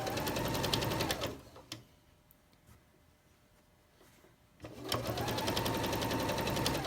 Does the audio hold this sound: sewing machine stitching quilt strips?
yes